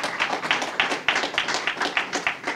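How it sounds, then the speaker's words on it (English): An audience claps for Senator Stephanie Hansen at a county event unveiling a Middletown library location, a dense, lively round of applause with quick overlapping claps, close and loud throughout. "Give her a round of applause."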